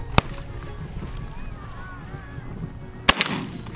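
Two loud, sharp shotgun blasts ring out about three seconds apart while hunters shoot at South African rock pigeons over a sunflower field, with faint wind and outdoor ambience between the shots.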